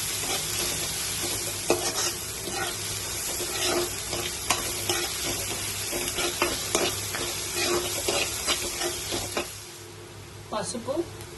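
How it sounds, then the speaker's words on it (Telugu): Onions and ginger garlic paste fry in a pan with a constant sizzle, interrupted by frequent scraping stirs of a spoon, fairly close and moderately loud, the sizzle briefly dropping near the end. "ఇప్పుడు బాగా బ్రౌన్ కలర్ వచ్చేంత వరకు ఫ్రై చేసుకోవాలండి ఆనియన్స్"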